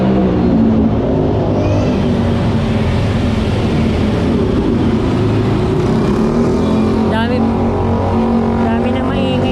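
Dense road traffic rumbles loudly on a busy road near a railway construction site, with noisy motorcycles buzzing past amid a continuous engine drone and people talking.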